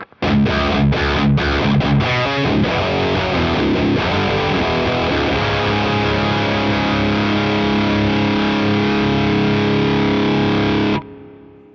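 A loud electric guitar through a VFE Dragon overdrive pedal: a few choppy strums, then a thick sustained chord ringing with heavy distortion until it cuts off abruptly.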